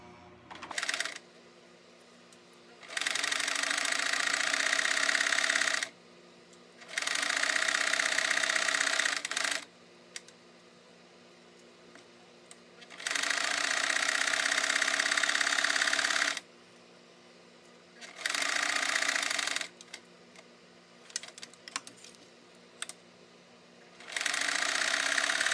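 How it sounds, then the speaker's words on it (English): A sewing machine stitches a pillow cover in several separate bursts of steady whirring, some a few seconds long, with quiet pauses between them. "I'm going to do it all the way down and go back so that there's 2 or 3 different stitches on it."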